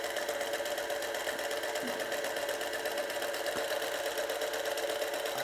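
A sewing machine chain piecing quilt blocks runs steadily and close, a continuous fast mechanical whir with a rapid needle rhythm and no talking.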